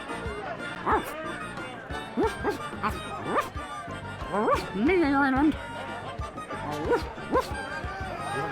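Cartoonish voiced yips and woofs from a dog in the adventure game The Secret of Monkey Island Special Edition, several short barks spread through the stretch with game music and other sounds around them.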